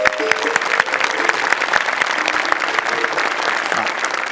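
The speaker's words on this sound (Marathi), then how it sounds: "एकदा जोरदार टाळ्या." Audience applause at a book unveiling event, continuous dense clapping from a crowd at steady loudness, with faint voices underneath.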